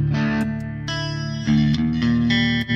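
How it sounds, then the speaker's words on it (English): Electric guitar played through a Line 6 POD HD using its Fender Twin preamp model, heard as sustained, effected chords with bright overtones, strummed a few times and loud and close with no talking. "If I drop in a Fender Twin preamp"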